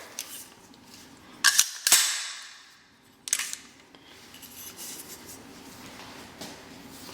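An AR-15 with a Colt bolt carrier group cycles, giving two sharp metallic clacks close together and then a third, with quiet handling noise between them.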